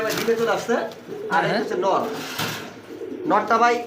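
Several domestic pigeons, including fancy and racing breeds, coo in low, repeated bursts close by while people talk over them.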